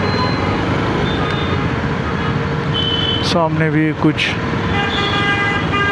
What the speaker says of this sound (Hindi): ट्रैफिक्स हैं, मतलब ट्रैफिक है इधर